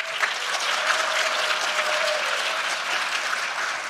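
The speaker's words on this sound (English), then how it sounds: "For Austin, clap if you think he got it" A live audience at a PAX 2019 panel claps, giving steady, dense applause that holds evenly from start to finish.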